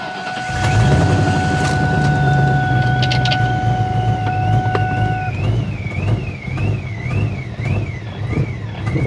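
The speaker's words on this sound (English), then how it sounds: "let's go ahead and power this car on" A supercharged New Edge Ford Mustang GT starts and settles into a low, rumbling idle up close, with a warbling electronic tone over it and no talking.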